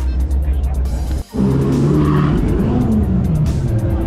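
A GT4 race car on a track during motorsport event running, a loud sustained engine roar with a brief cutoff before it surges back, tires squealing and the engine note rising and falling.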